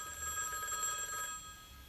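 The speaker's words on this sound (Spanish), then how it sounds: "Suena el teléfono." A telephone rings alone, a steady electronic ring with bright sustained tones lasting nearly two seconds at moderate level, with no talk over it.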